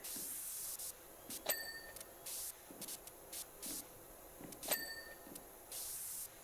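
Pressure washer spray in the PowerWash Simulator 2 video game, using a red nozzle, comes in repeated hissing bursts of about half a second, broken by short pauses and two bright metallic dings.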